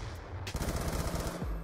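A Type 25 assault rifle in Call of Duty Black Ops 2 fires a quick, steady automatic burst lasting about a second, loud and close, with no talking over it.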